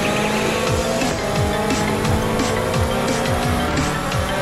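A tiger-striped super sports car roars in the Crazy Car Stunt video game, with a loud, steady engine and repeated tire squeals and skids sweeping up and down in pitch throughout.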